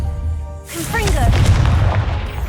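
A Confringo spell going off in Hogwarts Legacy: a short whoosh and a deep booming blast with a rumbling tail, loud and close, and a voice speaks briefly around it.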